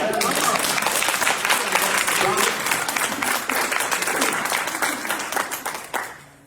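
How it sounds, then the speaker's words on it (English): Audience applause at a Women's History Month celebration honoring Black Greek sororities, loud and dense for about six seconds with voices mixed in, then fading away. "You get a triple applause."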